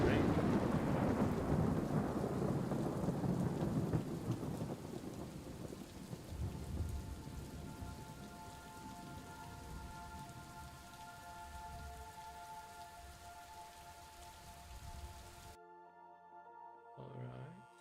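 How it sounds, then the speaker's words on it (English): Rain and rolling thunder in a video game, a broadband downpour loud at first with a heavy rumble, then easing to a steady patter with faint tonal music, cutting to near silence at the end. "And it's raining."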